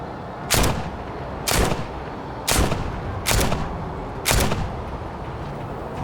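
Five gunshots fired in the VR game Saints and Sinners, set on a rooftop in New Orleans, each a sharp loud crack spaced roughly a second apart over steady background ambience.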